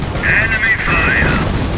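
Game gunfire from Company of Heroes, a loud burst of rapid shots and booming fire under a tonal, voice-like sound, continuing in steady bursts through the moment.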